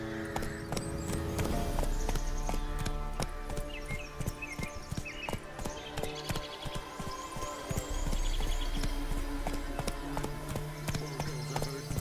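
Horse hooves galloping in The Witcher 3, a fast continuous clatter of hoofbeats over game music and ambient hum, with a short spoken phrase under it.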